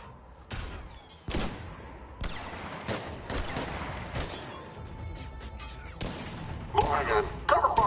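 Bursts of gunfire and crashing impacts from a Mass Effect combat scene, sharp repeated shots scattered across the clip with a shouted voice among them.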